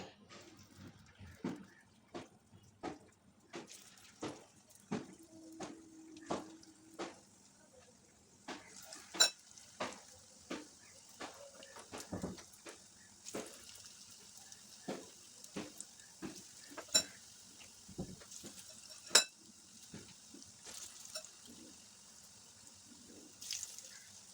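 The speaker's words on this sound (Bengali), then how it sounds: "এই যে বেসন বেসনের ব্যাটারটা করেছি এর মধ্যে এক একটা বল চুবিয়ে কোপ্তাগুলো চুবিয়ে ভেজে নেব" Gram-flour-batter-coated papaya kofta balls fry in hot oil, a soft steady sizzle under frequent sharp clinks and taps of a utensil against the pan.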